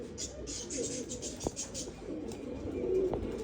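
Pigeons kept on a rooftop, with soft repeated cooing under steady background noise and a couple of brief sharp knocks.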